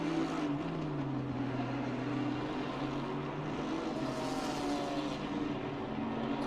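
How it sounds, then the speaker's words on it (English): Racing car engines drone continuously in a GT3/GT4 multiclass sim racing event at Misano, with steady tonal engine notes sweeping gently up and down at moderate loudness and no voices. "I'm almost sorry if it wasn't for the fact that it was engine noise."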